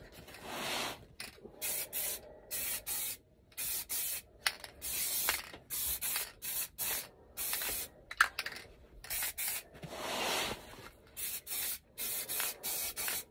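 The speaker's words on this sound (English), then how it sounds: "You think you are spraying a solvent onto the bag" An aerosol can sprays paint in a crisscross pattern over an MTP patrol pack outdoors, a loud hissing blast repeated in short and longer bursts with brief clicky pauses between, close and steady.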